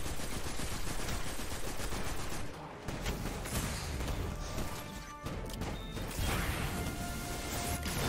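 Continuous loud gunfire in a video game, an Exodus Crash raid, keeps up a dense, relentless crackle of shots and impacts with brief dips and no pause.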